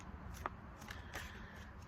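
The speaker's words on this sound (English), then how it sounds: "I need another shuffle." Tarot cards are shuffled by hand at close range, giving a brief run of soft riffling and papery flicks over a low steady room hum.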